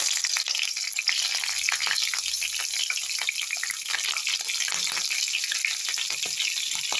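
Green chilies dropped into two spoons of hot oil for paneer fried rice, a loud, dense, crackling sizzle that keeps up evenly and close throughout, with no voices.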